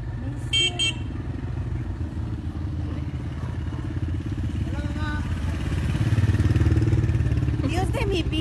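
A motorcycle engine drones steadily nearby on a street, growing slightly louder toward the end, with brief horn-like toots and clatter mixed in.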